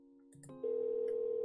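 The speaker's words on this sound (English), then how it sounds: "Phone got disconnected." A phone disconnecting tone in a video game: a few short clicks and beeps, then a steady, sustained electronic tone that holds evenly to the end, with no speech.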